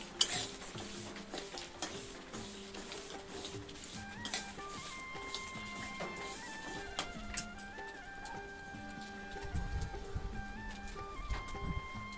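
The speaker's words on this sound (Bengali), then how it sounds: "দেখুন, আমি মুগ ডালটা ভেজে নিচ্ছি, একটু লাল লাল করেই ভেজে নেব।" Moong dal dry-roasts in a pan with soft rustling and scraping stirs, light clinks of utensil on metal, and faint tonal beeps in the background, all fairly quiet and close.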